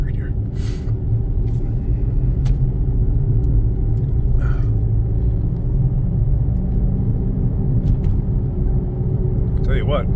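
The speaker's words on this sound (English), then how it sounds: "it's got a bad wheel bearing" A car with a bad wheel bearing rumbles continuously while being driven on the street, a loud, steady low drone from start to finish, with a few faint clicks and some voice over it.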